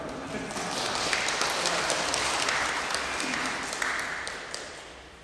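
Steady applause from a sizable church congregation during a Sunday service, a dense patter of clapping that swells and holds for several seconds before easing slightly.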